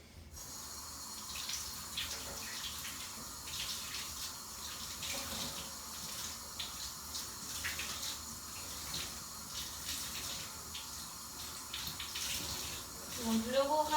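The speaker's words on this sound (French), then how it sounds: "donc je vais re-rincer." Running tap water rinses hair during a charcoal hair treatment, a constant moderate splashing hiss with soft gurgles, close by, with a brief faint voice near the end.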